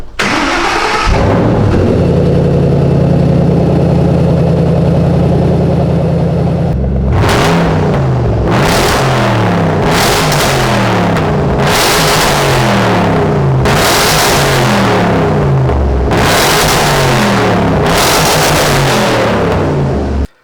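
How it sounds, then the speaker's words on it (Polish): Off-road vehicle with a compressor and 500 hp, loud inside a garage: a steady rumbling idle for several seconds, then a series of about six sharp revs rising and falling in a regular rhythm. "pozwoliłem sobie zmierzyć głośność tego potworka, który ma kompresor i 500 koni pod maską"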